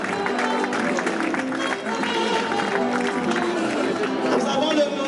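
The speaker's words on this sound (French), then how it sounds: "Sous vos applaudissements," An audience at an evening awards gala in a hotel applauds steadily, with a dense, continuous spatter of claps and crowd murmur throughout.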